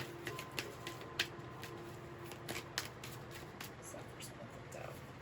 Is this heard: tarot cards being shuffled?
yes